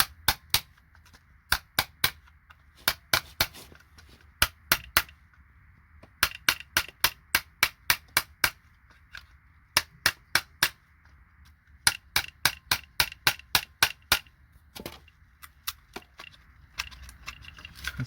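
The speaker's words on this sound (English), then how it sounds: "hammer the legs on one side so it just breaks them" Hammer blows breaking the legs off a scrap IC chip: sharp, close metallic taps fired in quick bursts of several strikes, separated by short pauses.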